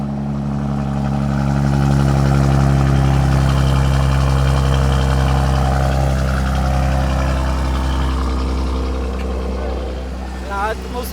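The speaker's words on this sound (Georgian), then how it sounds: "ეხა განახებთ Cold Stars გიოს მანქანის" A car with a modified exhaust starts cold and idles loud and close, its deep engine drone swelling early and then settling lower, with voices nearby.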